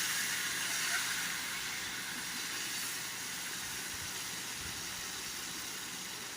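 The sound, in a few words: marinated paneer frying in white oil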